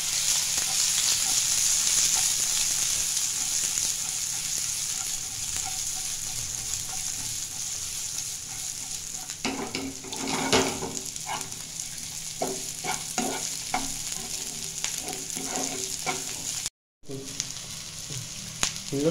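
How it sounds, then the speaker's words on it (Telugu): Diced onion with green and red capsicum stir-frying in a hot pan, a steady bright sizzle broken by scraping, stirring clatter from a spatula midway, heard close with no talk. "ఇప్పుడు ఇందులో dice onion, capsicum and red capsicum వేసాను."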